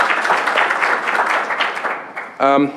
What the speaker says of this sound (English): So let's give that group of professionals and the students a round of applause.